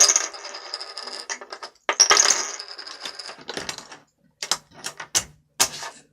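Metal sabacc coins for the card game are handled and dropped, giving bursts of bright clinking and jingling, then a string of separate sharp clinks as coins fall one by one, close up with no talking.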